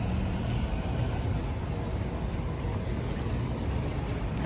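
Tour boat on the water off Monaco, a steady low engine rumble with rushing water and wind noise, continuous and close, with no talk.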